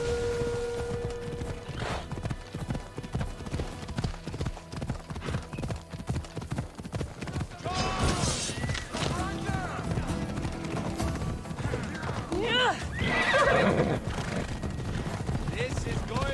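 Horse hooves clip-clop at a steady gallop in Assassin's Creed Odyssey, with a couple of whinnies rising over the running, all under a continuous bed of game music and ambience; a voice speaks briefly near the start.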